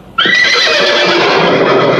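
Frightened horses let out a loud, sudden whinny in a comedy film scene, a sharp high cry that breaks the silence and trails on in a long quavering neigh.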